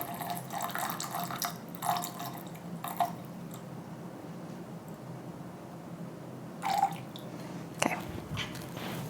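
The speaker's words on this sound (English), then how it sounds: "we're gonna do 2 fluid ounces of rum" Gin poured into a bartending vessel at home, a soft trickle of liquid with a few brief splashy bursts, close and fairly quiet.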